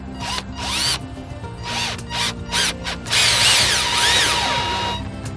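Power drill driving screws into boards while building a larger pig house in a pig yard, with several short whirring bursts that rise and fall in pitch and then one longer run, loud and close.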